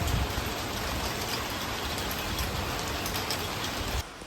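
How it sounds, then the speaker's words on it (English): Heavy rain pours steadily outside during a stormy monsoon downpour, a dense, even hiss of drops hitting surfaces close by, continuous until it drops off slightly at the very end, with no voices. "So it's raining very heavily outside, and it's literally raining cats and dogs from yesterday."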